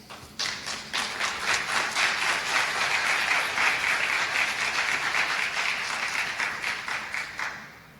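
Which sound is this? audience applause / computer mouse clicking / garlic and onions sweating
audience applause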